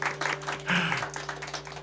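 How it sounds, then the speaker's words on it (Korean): A church congregation at a Sunday worship service gives a brief round of applause after a song, a soft, roomy patter of many hands over a low electrical hum, with a voice briefly rising amid the clapping. "우리 하나님께 영광의 박수 드려보겠습니다"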